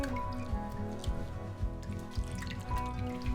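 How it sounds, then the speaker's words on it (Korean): Spring greens being washed and shaken in a basin of water, giving close, uneven splashing and dripping with soft squishy pulses of leaves moving through the water and no speech. "이렇게 흔들어서 한 3-4번은 씻어주셔야 돼요"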